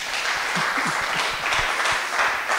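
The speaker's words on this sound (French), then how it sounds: "Alors on applaudit les uns et les autres." An audience claps together at a ceremony, with several sharper individual hand claps standing out against a steady wash of applause, continuous and fairly close.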